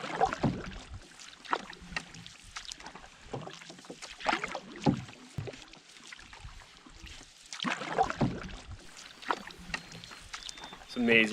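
A canoe is paddled through wilderness water with a steady rhythm of dips and splashes from the paddle, set against light wind and open ambience, with occasional faint voices.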